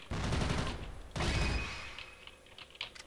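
Automatic gunfire from the video game Crossfire, two loud bursts of rapid shots, the second dying into quieter mechanical clicks and faint game sounds, with no talk.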